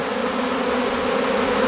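A swarm of honeybees hums loud and close as it is gathered into a small hive box, a thick, steady drone with no pauses or talk.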